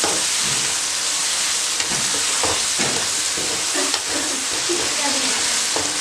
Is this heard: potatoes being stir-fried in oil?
yes